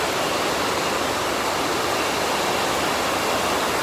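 Outdoor rain shower over a garden, an even, close, unbroken hiss of falling water lasting the whole stretch without any talk.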